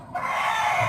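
A fighting rooster crows loudly and close, one sustained strained call filling nearly the whole moment after a brief quiet start.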